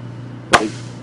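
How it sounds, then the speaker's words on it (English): A single sharp pop as a fabric tester punctures the sail of a Quicksilver ultralight aircraft, close and loud, with a short tearing tail, against a quiet steady hum. "that popping noise tells us that this sail is not a serviceable sail, because it went through, it ripped"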